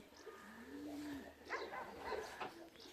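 Racing pigeons coo in a low, drawn-out call near the loft at the end of a 133 km race from Kalvarija, with softer pigeon murmurs and rustling following. No one speaks.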